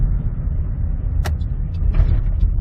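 A 2012 Chevy Traverse with reduced engine power and misfire codes drives along, its low engine and road rumble steady with a couple of brief ticks and rattles, no speech.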